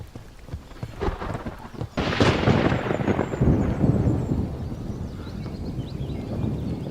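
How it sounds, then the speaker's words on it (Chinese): Thunder booms from a clear sky, starting as a low rumble and breaking into a loud crack about two seconds in, then rolling on heavily for several seconds with no voices. "怎么晴天打雷了？"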